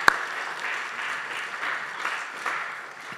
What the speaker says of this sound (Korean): 우리 케냐 선교팀 박수로 앞으로 맞이해 주시기 바랍니다.